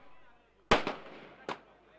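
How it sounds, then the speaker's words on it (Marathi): Firecrackers burst outdoors during a celebration at a local league cricket match in Shahapur, with three sharp bangs, two quickly together and one more a moment later, echoing over faint background noise. "मैदानात जल्लोष होतोय, फटाक्यांचा गजर होतोय"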